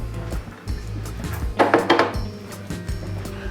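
Pizza dough for a Chicago deep dish, with a cup of olive oil and salt, stirred in a bowl: close scraping and knocking of a utensil against the bowl, with a denser burst of mixing in the middle.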